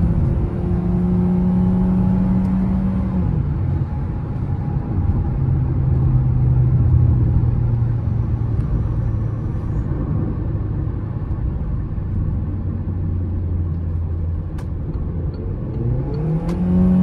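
A 2022 Citroën C4 Cactus Feel pulling uphill at full throttle, heard from inside the cabin: the engine drone climbs steadily in pitch, drops at a gear change, climbs again, then drops at a second shift under a constant road rumble.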